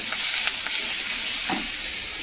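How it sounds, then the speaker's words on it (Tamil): Vegetables, including green beans, are lightly sautéed with a pinch of salt in a pan for a vegetable kara curry, giving a steady close sizzle with a few soft stirring scrapes and no talking. "காய்கறி லைட்டாக சாட்டே பண்ண போதும்."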